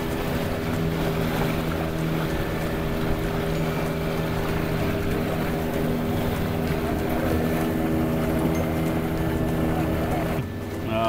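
A motorboat engine drones steadily and loudly throughout on a ride from Palolem to Butterfly Beach in Goa, with wind and water noise around it and a slight dip near the end.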